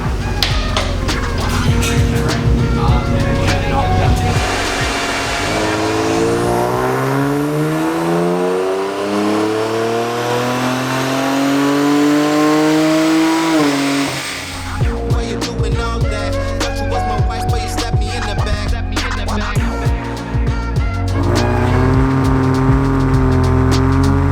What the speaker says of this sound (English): my car's going on the dyno for the first time in like 2 years